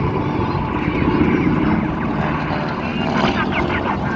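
A loud, continuous propeller aircraft engine roars close by at a Pearl Harbor attack reenactment, with voices faintly audible beneath the drone.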